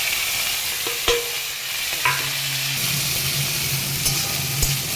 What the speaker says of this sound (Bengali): তো চলো এবার এই তেলের মধ্যে পাস্তাটা বানিয়ে নেব।